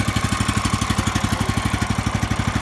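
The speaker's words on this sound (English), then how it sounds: "It's got a Kohler engine," Kohler 14 horsepower, 429 cc engine idling on a Woodland Mills HM126 portable sawmill, a loud, close, evenly pulsing chug with a rapid regular beat and no talk.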